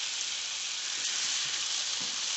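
Noodles pan-frying in plenty of oil, a steady close sizzling hiss that holds level throughout with faint crackles and no voices.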